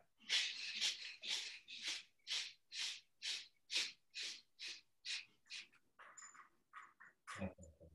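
About a dozen quick, forceful exhales through one nostril in a steady rhythm during a yoga breathing exercise, close and fairly loud, ending with a few softer breaths.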